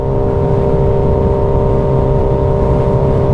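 A Suzuki Hayabusa Gen 3 motorcycle engine runs above 4000 rpm while riding, a loud, steady, dense drone with a constant hum and no speech over it.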